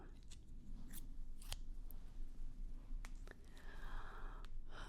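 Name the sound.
scissors snipping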